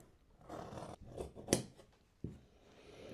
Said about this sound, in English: Then I'm going to cut these darts out of here.